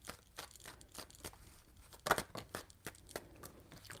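Tarot cards are shuffled close up in a quick series of soft riffling slaps and crisp flutters, faint and without talking.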